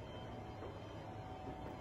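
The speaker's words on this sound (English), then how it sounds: "That is the Polar Express train." A toy Polar Express train runs nearby in a shop at Christmas, giving a faint, steady mechanical rumble and rattle of small wheels on track, with no talking.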